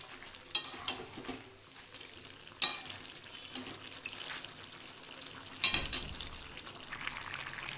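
Chicken sautés with ground spices in a pan for garlic spinach chicken, a soft low sizzle broken by a few sharp spatula scrapes and knocks spaced a couple of seconds apart.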